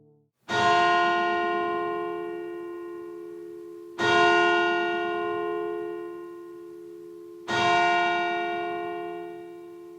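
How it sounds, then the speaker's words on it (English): A large church bell tolls three times for a death, each deep ringing strike spaced about three and a half seconds apart and left to hum and fade before the next. "The church bells only ring that way when someone's dead."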